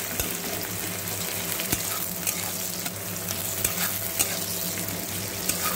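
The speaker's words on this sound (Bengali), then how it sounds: "এর মধ্যে দিয়ে দিলাম রসুন কুচি, সাথে দিয়ে দিচ্ছি পেঁয়াজ কুচি, আর দিয়ে দিলাম চেরা কাঁচা লঙ্কা, দিয়ে ভালো করে ভেজে নেব।" Chopped garlic, onion and slit green chillies sizzle in oil in a pan for a Bengali fish-oil chachchari with eggplant and potato, a steady loud frying hiss broken by occasional stirring clacks.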